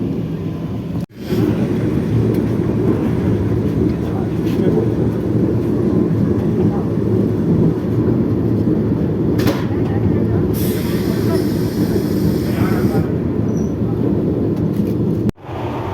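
A moving Indian passenger train rumbles steadily inside the carriage, a loud continuous low roar with faint higher rattles and brief hissing swells, and a sharp dropout near the start and end.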